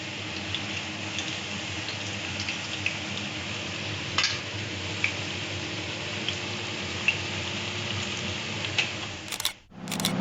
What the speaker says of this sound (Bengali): পেঁয়াজিগুলো একটু বড় বড় করেই ভাজছি।